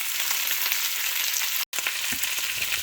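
Beef steak slices fry steadily in a pan, a continuous close hiss and crackle with a brief dropout near the middle and a few soft knocks toward the end.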